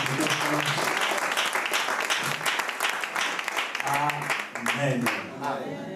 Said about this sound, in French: Est-ce qu'on peut acclamer pour la prophétesse Ange?